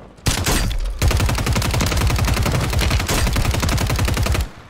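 Rapid automatic gunfire from a gun in the Call of Duty video game rattles on in a dense, continuous burst for about four seconds, loud and close, with no talking.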